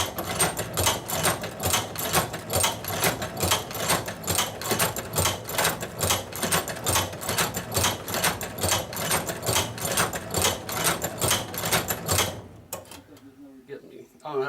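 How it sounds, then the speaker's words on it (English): A manual leather sewing machine stitches down the length of a strap in a fast, even mechanical rhythm of repeated clacks that runs loud for about twelve seconds before stopping. "So I'm going to sew down the length of this strap."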